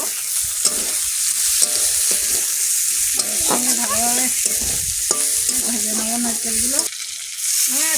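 Garlic and green chillies fry in oil in a pan with a loud, close, continuous sizzle. Repeated bursts of crackling and spitting run through it, along with occasional scraping of a utensil. No one speaks.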